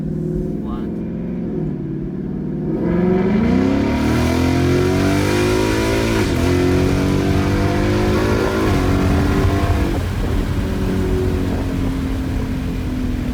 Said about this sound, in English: Corsa Extreme Catback is one of the loudest exhaust setups you can get on your S550 Mustang